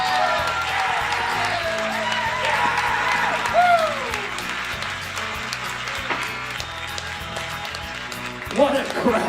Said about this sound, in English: Listen to these people roar!